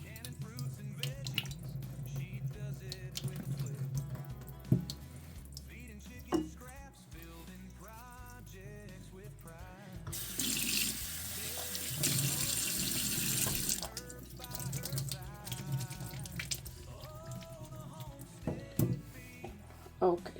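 Running water pours from a kitchen tap as boiled potatoes are strained and rinsed in a sink, with splashing and clinks of a pot and a strong gushing stretch midway, with a voice speaking at times.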